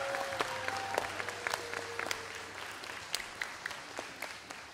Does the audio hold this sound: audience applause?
yes